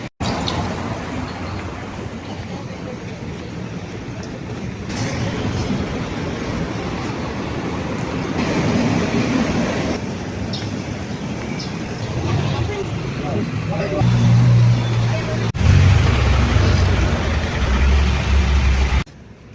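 Riding inside a jeepney on a road near Mines View, with a steady engine rumble and road noise throughout, a louder low-pitched whine near the end, and muffled voices mixed in.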